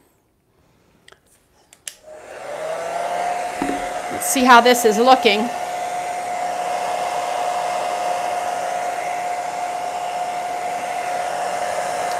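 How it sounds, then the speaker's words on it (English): A blow dryer starts up after a few faint clicks and runs as a loud, steady whirring drone, used on a thrift store lamp getting a faux vintage brass finish; a person speaks briefly over it early on. "here goes the blow dryer again"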